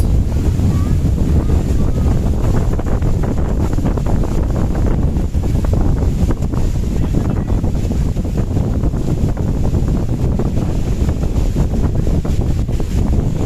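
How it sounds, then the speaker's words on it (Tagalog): Loud, constant wind buffeting the microphone with a low rumble, steady throughout, with a faint wash of waves or surf beneath, on the coast at Baganga, Davao Oriental. "hangin kay diri"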